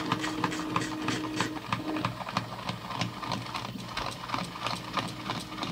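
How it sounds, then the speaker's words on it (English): A 3D printed slew drive's motor whirs steadily for several seconds as pressure is applied by hand, with faint rhythmic gear clicking and no pause in running. "I'm applying quite a bit of pressure in there and it's not stopping the motor."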